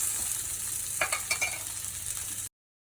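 A wagyu fillet steak sizzling in a hot pan, a steady close frying hiss with a short burst of sharper crackles midway before it cuts off, no talking.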